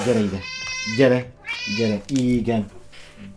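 A cat meows repeatedly in drawn-out, rising and falling cries, close and fairly loud, with a person speaking Hungarian in between the meows.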